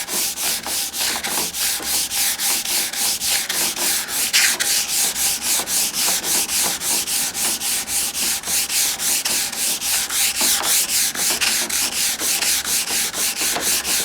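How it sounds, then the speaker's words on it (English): Handmade wooden longbow being sanded with 120 grit sandpaper, a loud, close, rhythmic rasp of quick back-and-forth strokes repeating evenly throughout, with no voices. "onto the 120 grit, this will start to polish the bow"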